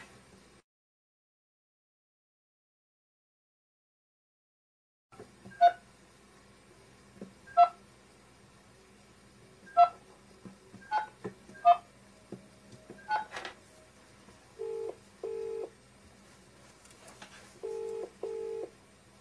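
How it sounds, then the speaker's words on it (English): A telephone keypad on speakerphone sends a series of separate dialing tones at uneven intervals, then two pairs of ringback tones, all faint and close in an otherwise quiet room. "So I'm going to call that now and put it on speakerphone."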